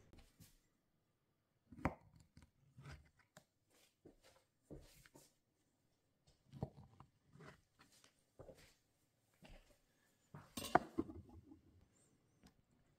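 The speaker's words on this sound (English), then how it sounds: "I'm going to slice them up into chips" Knife slicing tortillas into chips on a cutting board, quiet irregular chopping taps in short clusters with pauses between, close and faint.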